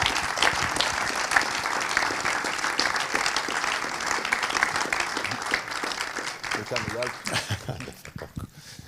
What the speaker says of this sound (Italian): senti il calore dell'applauso a fine del film